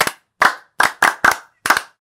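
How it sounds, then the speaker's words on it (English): Six sharp hand claps ring out in an uneven rhythm, close and loud, each a short crisp burst with brief silence between, from a single group clapping in a household setting. "Clap for him."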